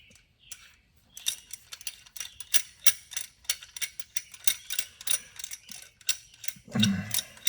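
A clamp being tightened against an old brake caliper piston on a Honda Prelude, heard as a close series of sharp ratcheting clicks in an irregular rhythm, ending with a heavier clunk.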